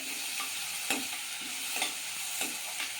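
Cashews sizzling in a hot pan, with a spoon scraping through them in a few regular stirring strokes.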